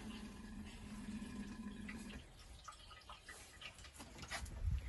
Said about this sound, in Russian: Где-то она булькает.